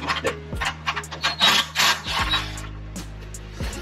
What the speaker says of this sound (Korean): 안전기에 딸려있던 부속품들 하나씩 안전기 제거